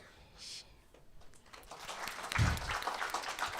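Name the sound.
audience applause at a book launch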